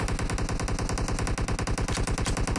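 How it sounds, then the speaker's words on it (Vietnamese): Rapid automatic gunfire from a PUBG Mobile match, a dense run of sharp bursts firing continuously and loudly with no talk over it. "mấy thanh niên này bắn nhau ở dưới tầng 1 rồi"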